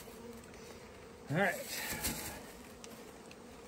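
Honeybees from a package during a spring hive install buzz in a brief close burst under a voice, then a steady low drone continues faintly behind.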